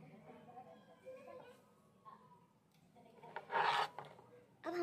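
Paneer pieces rubbed against a grater in a home kitchen while making hara bhara kebab, giving short rasping scrapes that build to a louder burst near the end, under quiet talk and kitchen background.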